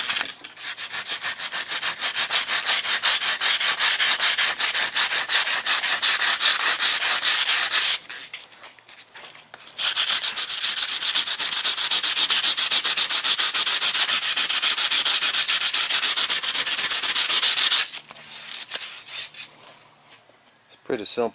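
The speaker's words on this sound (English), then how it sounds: "Now I'm taking some sandpaper with my hand, just going around the edge," Hand sanding around the edge of a custom fiberglass wiper cowl panel with sandpaper: loud, close, continuous rasping strokes in two long bursts, separated by a brief pause and ending in a quieter stretch.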